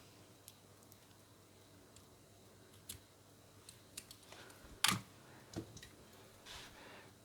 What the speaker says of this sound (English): take our scissors and just cut off the excess cotton on top